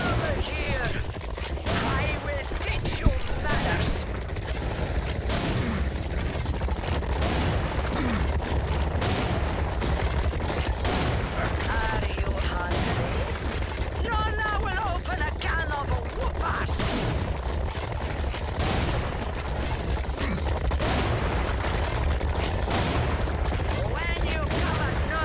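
In Serious Sam 4 on Xbox Series X, enemy gunfire crackles in dense, continuous bursts and rapid fusillades amid game effects, while someone talks over the action throughout.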